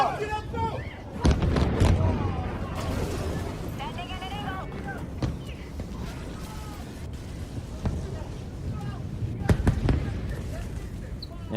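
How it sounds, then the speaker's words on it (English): A ballistic missile striking downtown Tel Aviv, heard as several sharp, loud explosive cracks and booms, notably around the second and near the tenth second, amid crowd noise and people talking throughout. "footage of a ballistic missile hitting downtown Tel Aviv"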